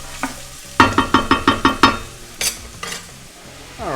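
Onion, carrot and celery cooking in a soup pot for beef and barley soup, with a quick run of about seven spoon clanks against the pan over a low, steady sizzle.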